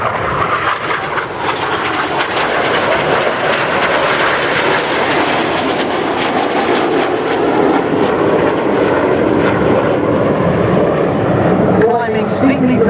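A Red Arrows jet roars past overhead at an air show, a loud, sustained rushing engine noise that swells slightly and holds steady, with faint voices underneath.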